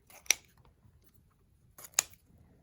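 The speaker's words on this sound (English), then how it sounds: "I'm just going to cut all of these at diagonals today, I think." Scissors snip ribbon ends diagonally twice, each cut a crisp, close click about a second and a half apart against a quiet room.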